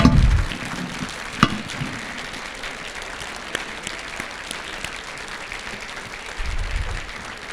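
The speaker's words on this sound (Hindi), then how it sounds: "जोर से तालियों से ऐसे लोक नायक का स्वागत करें आप लोग" A crowd applauds to welcome a speaker at a political rally, a thin, continuous patter of clapping heard from a distance with a few louder claps and low rumbling thumps at the start and end.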